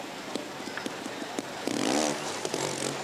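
A 250cc Honda-engined trials motorcycle at an indoor trial event in Valencia gives a brief revving burst midway, amid sharp clicks and knocks and a busy arena background.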